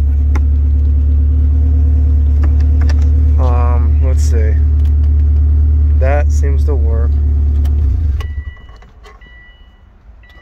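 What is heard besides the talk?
Subaru car engine running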